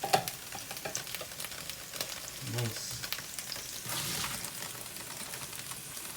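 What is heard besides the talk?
onions frying in olive oil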